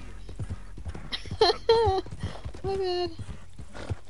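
Hooves of a horse in a PS4 video game clip-clop in a quick, regular beat, with loud whinnies breaking through in the middle; a voice speaks briefly.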